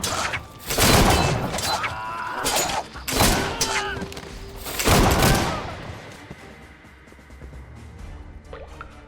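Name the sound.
pistol and musket gunfire in Caribbean Legend video game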